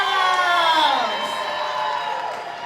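Crowd cheering and whooping for eighth grade graduates at a school graduation ceremony, with a dense, loud, steady roar of many voices and high excited shouts throughout.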